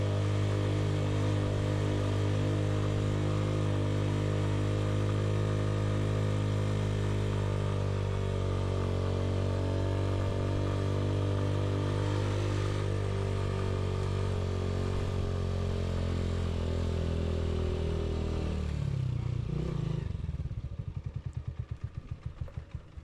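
A motorcycle labours uphill on a mountain road in Kashmir with a loud, sustained engine drone that holds steady, then winds down and fades near the end.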